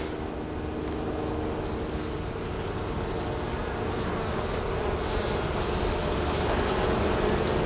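Honeybees at an open hive, being worked while beeswax is scraped from it, buzz as a faint steady drone under a broad noisy hum, with small distinct buzzes flitting past now and then.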